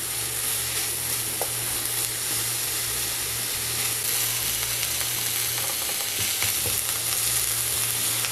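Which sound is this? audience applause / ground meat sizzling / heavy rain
ground meat sizzling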